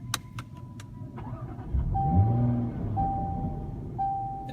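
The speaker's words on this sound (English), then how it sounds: "start the car up, and I'll hopefully get some of the exhaust sound" A 2018 Jaguar F-Type 400 Sport with its 400-horsepower V6 starts up, the engine catching after a short crank and settling into a loud, throaty exhaust idle that holds steadily, with a few faint clicks and a high electronic chime.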